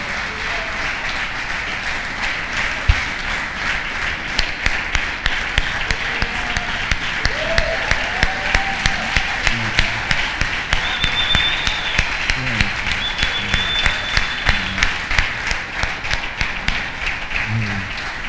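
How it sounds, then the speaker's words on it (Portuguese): A church congregation applauds for Jesus during a worship service, many hands clapping in a steady, rhythmic beat that carries on for a long stretch, with a voice speaking over the clapping. "vamos aplaudir Jesus"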